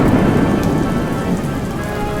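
Steady heavy rain pouring down during a thunderstorm, a dense continuous hiss of drops hitting surfaces, loud and close with no pauses.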